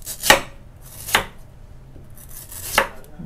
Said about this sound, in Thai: หั่นหน่อไม้กันนะคะ